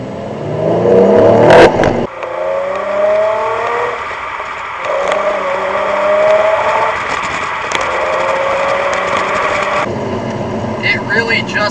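A 2008 Nissan 350Z Nismo accelerating, its engine note rising in pitch through sustained pulls with a shift-like break midway, loud and close with road noise underneath.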